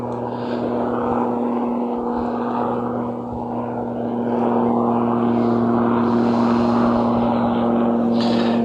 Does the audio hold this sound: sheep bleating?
no